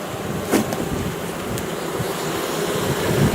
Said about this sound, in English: there are some bees that got out